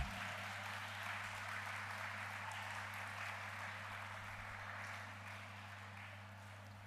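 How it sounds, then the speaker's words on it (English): An audience applauds at a college commerce department's valedictory ceremony, a faint, steady wash of clapping over a low electrical hum that carries on without a break. "Come on guys, give a very big round of applause."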